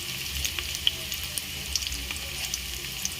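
Tomatoes dropped into hot oil for Gujarati vagharela bhat made from leftover rice, giving a steady soft sizzle with faint crackling pops, close and alone without talk.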